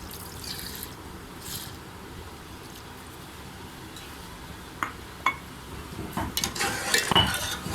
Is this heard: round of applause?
no